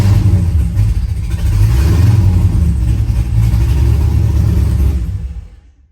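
Corvette engine running loud and close, a deep continuous rumble with a rise as it revs, holding steady before fading out at the end.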